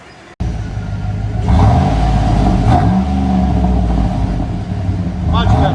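A Chevy Tahoe's 5.3L V8 revs loudly through a new, louder aftermarket exhaust that replaced a too-quiet Flowmaster 40 series, a deep rumble rising and falling close by after a brief quiet start, with a voice talking over it.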